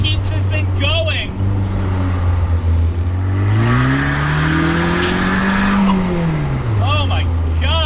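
A 2020 Vanderhall Carmel three-wheeler accelerating hard on a back road. The engine snarls close and loud, and its pitch climbs sharply through a gear before settling back.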